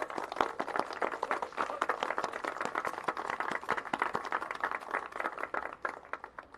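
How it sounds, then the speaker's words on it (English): Audience applause at a gathering honoring Buffalo Soldiers in support of the Lakota/Sioux tribe, a steady patter of many hands clapping at moderate distance, fairly quiet, with no talk over it. "can we give her a round of applause?"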